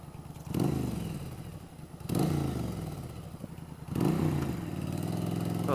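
A 1988 Yamaha XV1100 Virago V-twin rumbles while being ridden, with three distinct surges of throttle, each rising then settling into a steady, close, loud engine drone.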